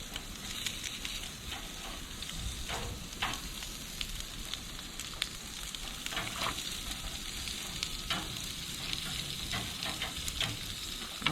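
Lobster meat sears in a very hot pan with a steady, close sizzle and frying crackle, scattered pops and spits breaking through the constant hiss.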